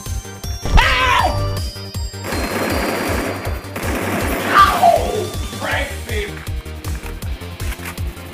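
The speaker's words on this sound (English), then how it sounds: "Heavy machine gun!" Heavy machine gun firing in a video game, a loud, rapid stream of evenly spaced shots continuing throughout, with whooshing and clattering game effects layered over the bursts.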